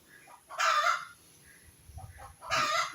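A rooster crows twice nearby, loud bursts a couple of seconds apart, with soft chicken clucking in the gaps between them.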